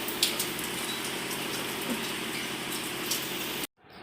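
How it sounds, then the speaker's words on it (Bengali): Heavy rain pours steadily, soaking the edges of a home doorway area. It gives a dense, even hiss with scattered drop hits, then cuts off abruptly near the end. No voices are heard. "এই এই ধারগুলো বৃষ্টির জলে ভিজে যায় এই দেখো কত জোরে নেমে গেছে"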